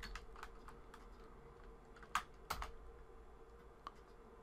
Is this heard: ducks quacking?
no